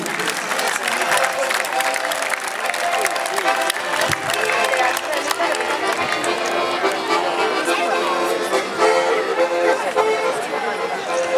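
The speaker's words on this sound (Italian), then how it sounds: "un applauso al gruppo di Isili" A crowd at an outdoor grape festival in Quartu Sant'Elena applauds the Isili folk group, a steady wash of clapping mixed with crowd chatter and voices throughout.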